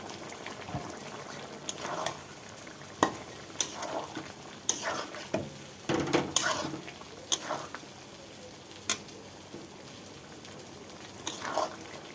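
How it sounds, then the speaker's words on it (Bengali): Fish frying in a pan for a Bengali home-cooked dish gives a low, steady sizzle, broken by sharp clinks and scrapes of a utensil at uneven intervals. The sound is close, with no talking. "মাছটা আমি দিয়ে দিচ্ছি"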